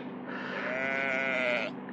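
A sheep bleats in a Hago mobile ramming game, one long wavering bleat that sounds close and loud over faint background tones, with no ramming impacts standing out.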